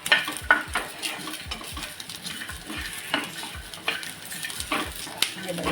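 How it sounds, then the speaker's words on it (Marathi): Garlic, dried coconut and onion roast in a pan for a spicy Maharashtrian crab curry, with repeated scraping stir strokes and light clinks of a utensil over a soft sizzle, close and steady. "ज्या तीन गोष्टी आहेत ना लसूण खोबरं आणि कांदा आपल्याला व्यवस्थित अशा एकदम भाजून घ्यायचे आहेत"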